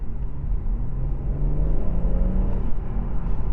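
A BMW M140i accelerates in comfort mode from about 20 to 40 mph, heard from inside as a steady low engine rumble and drone that builds gradually, with no talking.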